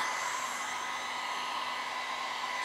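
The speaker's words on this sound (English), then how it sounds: "I'm just using a blow dryer to kind of push these colors out and among." A blow dryer blows steadily and close, pushing alcohol ink across painting paper, a continuous whooshing hum with no pauses.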